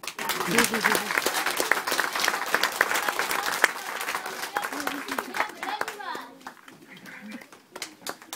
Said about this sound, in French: Je crois que des applaudissements s'imposent.